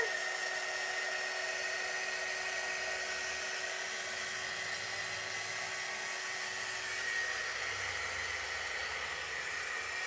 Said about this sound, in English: Let's dry our ghosts that we have so far.